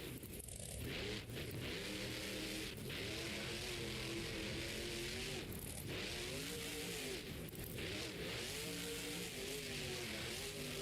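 A monster truck engine revs loud and steady while crushing camper vans at a freestyle event in Tampa, the roar rising and falling in waves with no pauses.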